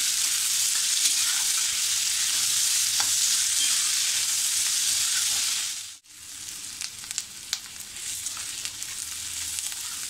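Chopped onion sautés over a high flame in a pan for a leafy vegetable dish, giving a loud, bright, continuous sizzle with a brief drop partway before the hiss resumes with small stirring ticks.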